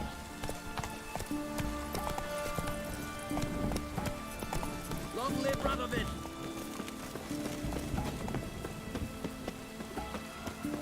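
A horse gallops in The Witcher 3 video game, hooves beating in a fast steady rhythm throughout, mixed with rain-like ambience and game sound under occasional voices.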